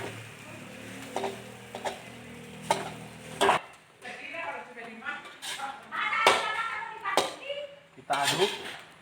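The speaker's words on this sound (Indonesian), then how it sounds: "kita aduk makanannya, nasinya tadi, supaya menyatu dengan aroma bawang" A spoon stirs rice with onion in a pan, making intermittent scraping and clinking strokes while a person talks throughout.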